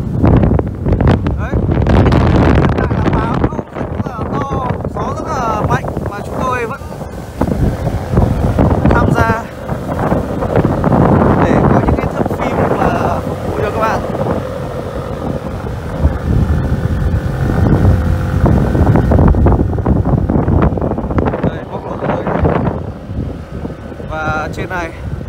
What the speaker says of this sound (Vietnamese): Với cái độ cao như này thì gió còn khủng khiếp hơn nữa.